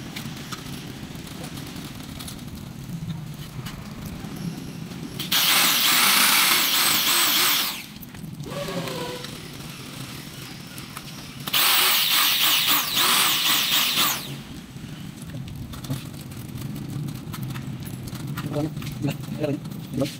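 A hole saw cuts through an aluminum screen door frame in two loud, harsh bursts of several seconds each. People talk throughout, and there are light mechanical handling noises between the cuts.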